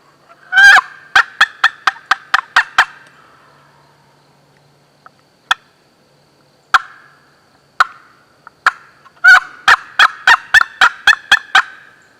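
Wild turkey toms gobbling in the Georgia woods during spring hunting: loud rapid gobble rattles open and close the stretch, with single sharp calls and short bursts scattered between them and no talk.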